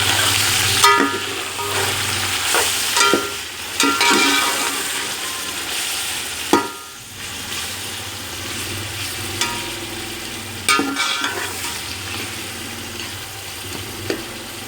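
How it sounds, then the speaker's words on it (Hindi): Chicken with browned onion, ground garlic and ginger and salt sizzles and fries in a pan for pulao, with a continuous crackling hiss broken by repeated stirring scrapes. "अब हम चिकन को गोल्डन ब्राउन होने तक भूनेंगे"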